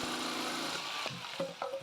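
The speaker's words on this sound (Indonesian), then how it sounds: "Kita perlu memotong papan multiplex ini ya sesuai dengan ukuran rak yang kita buat." A power saw cuts through a multiplex plywood board for a simple set-top box shelf. It gives a steady, loud rasping whine that drops away near the end and leaves a few lighter scraping touches.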